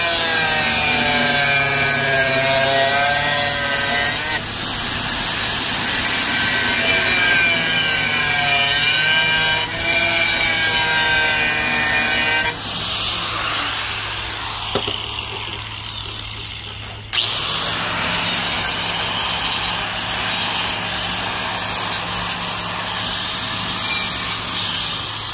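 A power cutter slicing through a steel drum held in a vise to make a stove door, with a loud continuous grinding whine whose pitch shifts as the cut progresses, broken by brief pauses.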